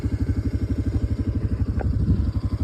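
An ATV engine idles and putters in a steady, throbbing rhythm close by, set among flamingos at the Aguas Salinas salt flats in the Peruvian Andes. A faint short click sounds midway.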